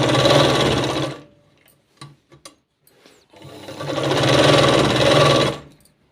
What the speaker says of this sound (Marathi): आता दुसऱ्या साईडनेही सेम त्याच पद्धतीने व्यवस्थित शिवून घ्यायचं आहे